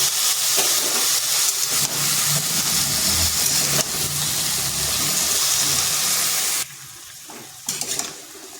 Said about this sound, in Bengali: এইভাবে আলুটাকে বেশ কিছুক্ষণ নেড়ে চেড়ে ভেজে নেব